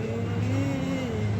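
A car's engine hums steadily at night while it is maneuvered into a parking spot, with a low, close idle-to-rev tone and a faint whine, no voices.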